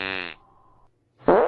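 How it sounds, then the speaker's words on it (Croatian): A fart from a group huddled together for warmth while snow falls: a buzzy, tonal blast, then a faint low drone and a short pause, ending in a loud, raspy burst. No talking. "Ko je prdnuo?"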